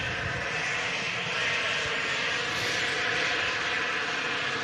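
An Embraer jet aircraft at Manchester Airport, its engines producing a continuous broad roar with a slight rise in intensity, heard from a distance at moderate volume.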